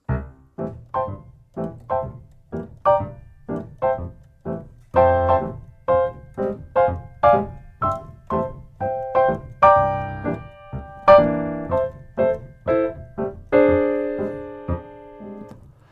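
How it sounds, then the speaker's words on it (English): Solo piano plays a bouncing stride accompaniment, bass notes alternating with chords in a steady rhythm, gradually building fuller and brighter toward the end. "you don't need to be a great soloist in order to play stride piano"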